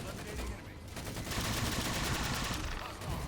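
Enemy gunfire in Halo 4 Spartan Ops, a sustained, loud rattle of rapid automatic shots layered with bursts and crackle across the whole stretch, close and dense, with no voices over it.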